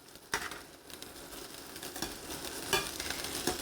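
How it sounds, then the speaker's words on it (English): Shrimp being flipped in a frying pan for pad thai, a soft continuous sizzle broken by a few faint scraping and tapping turns of the utensil. "So we're going to flip our shrimp."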